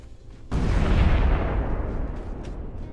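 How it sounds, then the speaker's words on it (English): A sudden loud, deep explosion in a video game erupts after a short quiet lead-in and rolls into a long, rumbling decay that fades slowly, with no talk. "Those explosions are so violent."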